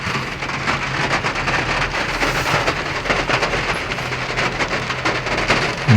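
Heavy rain pours steadily during a summer storm in Khon Kaen, a dense continuous hiss of drops beating on surfaces, loud and close throughout, with no voices.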